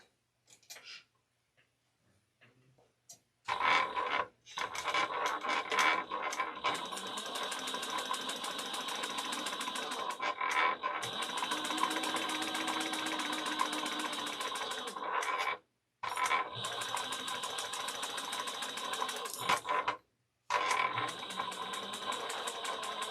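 A sewing machine bastes a seam on fabric for a travel bag, running in long steady bursts of fast mechanical stitching with brief pauses between runs; no one speaks.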